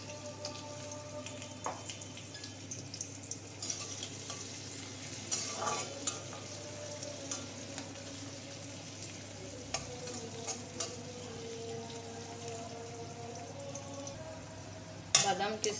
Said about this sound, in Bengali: বাদাম কিশমিশ ভাজা হয়ে গেছে